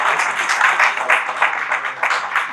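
Audience applause at a book launch ceremony, a steady burst of many hands clapping that rolls on for a couple of seconds, fairly loud and filling the room without any voices over it.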